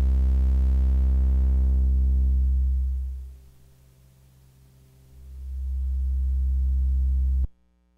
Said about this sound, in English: the Ms-20 Mini has a very noisy filter. When I sweep this,